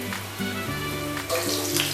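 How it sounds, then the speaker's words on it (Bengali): Seekh kebabs made with mango ginger (Curcuma amada) fry slowly in a pan over medium heat, giving a steady soft sizzle with some faint tonal sounds in the background and no talking. "মিডিয়াম আছে, আস্তে আস্তেই ভাজছি, তো একটু টাইম লাগবে।"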